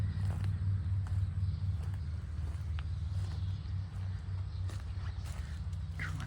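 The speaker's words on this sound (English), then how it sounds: "You can actually hear a bit of traffic noise from the main highway" Faint, steady low rumble of distant traffic from a main highway carries on without a break beneath an outdoor walk through planted native ground cover, with a few soft scuffs and no talking.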